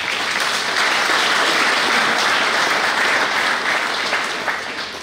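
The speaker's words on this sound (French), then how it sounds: "celle de Raymond Etili, que je vous demande d'applaudir s'il vous plaît." Steady applause from an audience at a political speech in Martinique, sustained clapping throughout and tapering slightly at the end.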